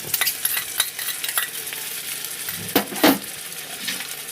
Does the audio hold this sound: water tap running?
no